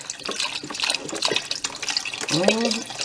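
Liquid poured into a pot of chicken noodle soup, a continuous splashing gush with a rising gurgle near the end, under a voice speaking.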